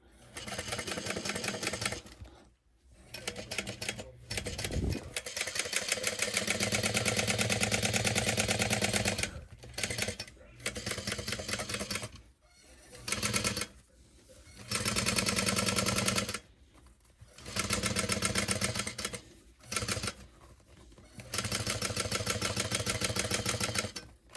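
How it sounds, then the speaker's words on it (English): A sewing machine top stitching or basting a fabric add-on for a Becca Mini mouse pal, whirring steadily in several long runs broken by short pauses. "So we're just gonna top stitch this on, or baste it on at a 5."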